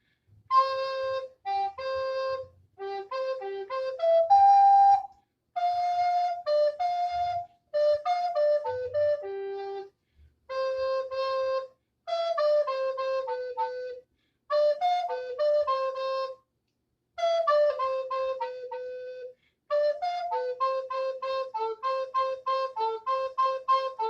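A solo alto recorder plays the melody of Mozart's "Eine Kleine Nachtmusik", clear breathy tones in short phrases separated by brief pauses, played close and unaccompanied.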